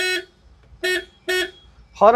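Three short bursts of a bright, buzzy horn on a Tata Ace Gold petrol small truck, each roughly a quarter second long with brief gaps, ending on a fourth blast that is cut off.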